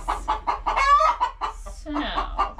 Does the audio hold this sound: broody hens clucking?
yes